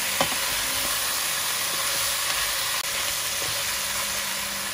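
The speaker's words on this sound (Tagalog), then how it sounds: "Tapos lagyan na natin ang ating beef" Beef goes into a pot of Cebu balbacua, giving a steady broadband sizzle and hiss with a few soft knocks and stirring clatters, continuous and close with no talking.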